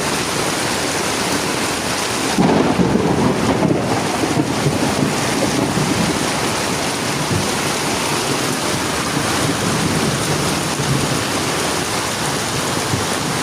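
Steady, dense roar of heavy rain pouring down on a flooding street, loud and continuous with a gusty, windy wash throughout.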